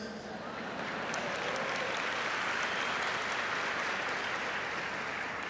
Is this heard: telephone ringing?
no